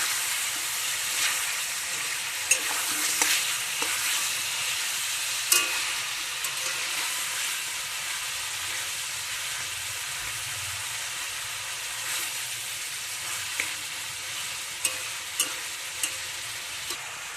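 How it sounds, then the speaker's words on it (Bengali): Chopped onions sizzle steadily in butter in a pan, a loud continuous frying hiss with occasional sharp clicks and scrapes from stirring, no talking. "পেঁয়াজগুলোকে ভালোভাবে নেড়ে চেড়ে নিচ্ছি।"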